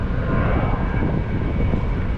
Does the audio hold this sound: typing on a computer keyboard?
no